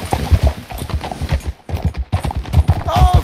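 Horse hooves clip-clop in a steady, close rhythm while riding in Red Dead Redemption 2, with a brief pause midway, sounding loud and continuous beneath faint game ambience.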